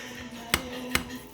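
Two sharp, brief taps of a utensil against a pan, spaced about half a second apart, as baked stuffed manicotti is broken up; close and distinct over a faint hum.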